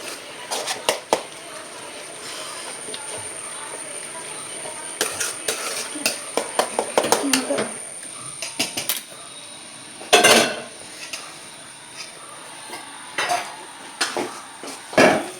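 A potato, onion and carrot masala is stirred in a pan for masala dosa, giving repeated metallic clinks and scrapes of a utensil against the pan, close and fairly loud, with a brief voice now and then.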